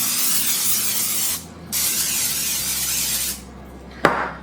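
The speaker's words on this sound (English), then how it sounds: "you're gonna spray your pie pans or whatever pan you're using" Cooking spray hisses onto pie pans in two long bursts with a short pause between them, close and steady, and then a brief sharp clack follows.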